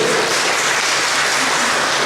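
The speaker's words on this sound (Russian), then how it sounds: "вы сорвали аплодисменты зала" A hall full of people at a public hearing on Odesa's beaches applauds; the dense, even clapping stays loud and unbroken throughout, with no speech.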